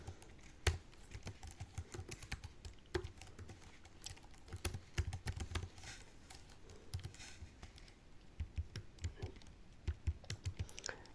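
Close computer keyboard typing while writing code for a Laravel API, irregular bursts of quick clicking keystrokes with brief pauses between, fairly quiet and with no voices.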